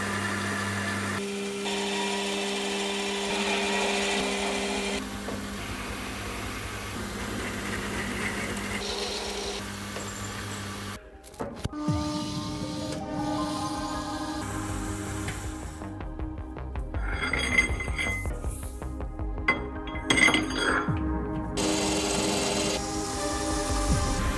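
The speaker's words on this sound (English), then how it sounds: "The ends of this bar need to be machined on a lathe." A lathe machines the ends of a 25 mm by 540 mm steel bar, a steady motor hum giving way midway to harsher scraping and grinding cuts with bright ringing tones, continuous and fairly close.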